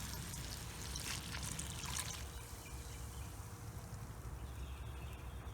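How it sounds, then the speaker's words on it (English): Guinness beer poured into a stew pot, a close, steady gurgling pour that continues throughout at low level, slightly stronger at the start. "And now we're going in with the beer."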